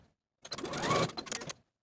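A sewing machine runs a short straight stitch around the upper corner of a handmade cardigan, one brief close burst of rapid needle clatter lasting about a second.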